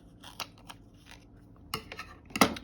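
Scissors snipping through planner stickers for a Happy Planner spread, a few sharp close-up cuts spaced apart, with the loudest snips near the end and no talking.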